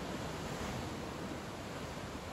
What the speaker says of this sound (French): Abandonnez la respiration avec le son des vagues.